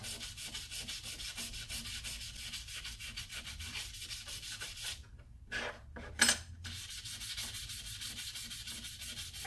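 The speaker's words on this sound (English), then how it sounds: "I'm using real fine sandpaper just to clean her on out." Fine sandpaper rubbing steadily against a sterling silver square stone setting, a close, continuous scratchy sanding with a brief pause and a couple of light clinks midway.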